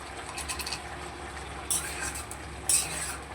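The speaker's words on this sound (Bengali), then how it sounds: "আবারও একটু ভালো করে নেড়ে ছেড়ে নেবো" Potato curry with added sugar gets stirred in a pan: a low simmering hiss under light scraping, then two sharper metallic clinks of a spoon against the pan, close and fairly quiet.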